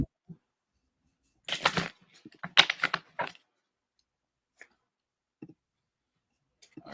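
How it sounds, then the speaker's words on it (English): Tarot cards shuffled by hand during a psychic reading, a quick burst of papery riffling and flicks followed by a few faint isolated clicks in a quiet room. "shuffle the cards in again."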